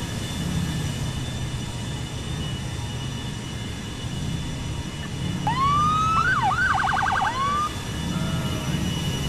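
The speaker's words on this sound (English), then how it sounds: "I have a brand new siren, by the way." A police car siren in the video game GTA 4 with the LCPDFR mod sounds in a short burst of rising wails and quick yelps over a steady engine and road rumble.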